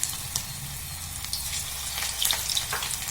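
Jackfruit kabab pieces sizzle and crackle steadily in hot coconut oil on a high flame, with a few sharper pops and spits over a close, continuous fry.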